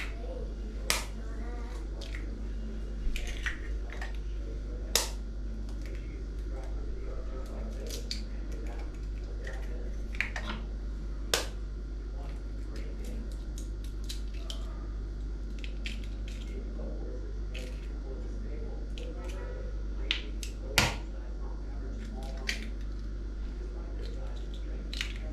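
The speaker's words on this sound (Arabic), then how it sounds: "السمنه خلاص ساحت، هنجيب كده شويه بيض بلدي 5 بيضات" Five farm eggs fry in melted ghee, giving faint scattered pops and crackles over a steady low hum.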